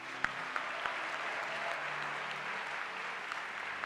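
A church congregation applauds during a worship service, producing steady, moderately distant clapping from many hands, with a few sharper claps standing out at the start.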